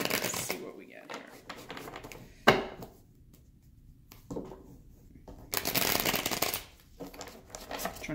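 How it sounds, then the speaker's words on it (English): Tarot cards riffle and flutter in several quick bursts of shuffling, crisp and close, separated by short pauses. "I'm trying to get some good shuffles"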